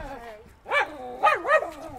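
A dog gives a few close, loud barks with a whining, yelping edge, three short bursts in quick succession near puppies outdoors.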